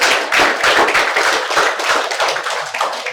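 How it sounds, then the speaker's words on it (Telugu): Loud, dense applause from an audience welcoming a guest at a book launch event, steady clapping sustained for several seconds without a break. "మరి ఒక్కసారి ఆమెకు మీరు స్వాగతం పలుకుతూ చప్పట్లు కొట్టండి."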